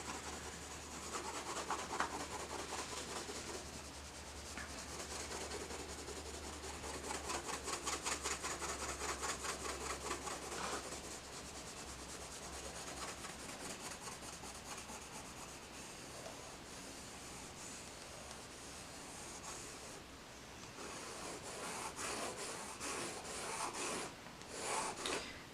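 A yellow colored pencil being sharpened, with a continuous soft rasping grind of wood and lead that runs steadily with slight surges, close and quiet, no talking.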